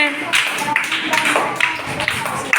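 Young children in a first-grade classroom number game clap together in a brisk, continuous patter close by, with an adult voice speaking over it.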